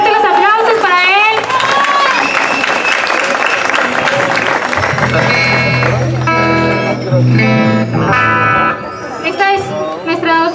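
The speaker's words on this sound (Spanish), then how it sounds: "¡Fuerte los aplausos para él!" A crowd at a singing contest semifinal with a mariachi-style group claps and cheers loudly and continuously, a dense wash of applause over lingering music and voices.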